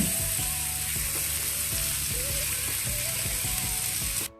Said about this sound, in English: It's just going to sear for a minute.